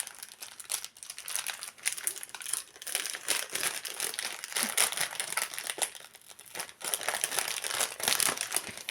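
Cardboard packaging being opened, with steady crinkling, rustling and tearing sounds at close range that run continuously with brief pauses.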